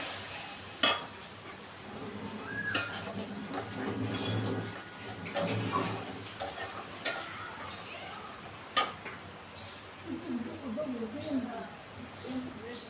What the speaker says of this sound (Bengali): এবার একটু জল দিয়ে দিচ্ছি, মশলাটাকে কষিয়ে নিতে হবে।